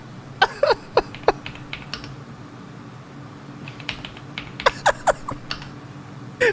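Keys on a computer keyboard clack in uneven bursts of quick, crisp strokes over a low steady background hum, with a pause in the middle before another flurry of typing.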